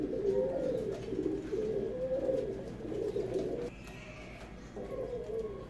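Pigeons kept for sale coo in low, throaty rolling phrases, several overlapping calls repeating close by at a soft to moderate level, with no talking.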